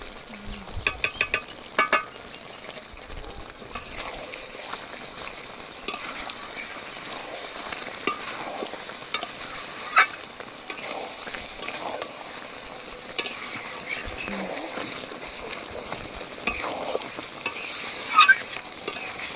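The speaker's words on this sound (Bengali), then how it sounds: "এবার ভাজা মশলা দিয়ে মশলা মিক্স করে নামিয়ে নেব" A spoon stirs chicken curry with fried spices in a pan, giving soft scraping and scattered clinks over a low sizzle, with a few louder knocks early on.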